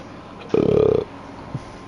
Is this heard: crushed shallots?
no